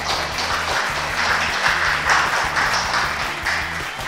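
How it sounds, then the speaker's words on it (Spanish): Studio audience applause on a drum-focused television programme, a dense, continuous clatter of many hands clapping for about four seconds, fairly loud, with a faint rhythmic low hum running underneath. "Fuerte aplauso para él."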